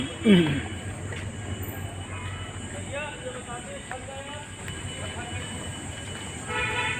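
Busy platform ambience at Kathgodam railway station in Uttarakhand, with a train present: a steady broad rumble of rail noise, a sharp louder burst near the start and faint tonal squeals or horn-like tones rising through the middle.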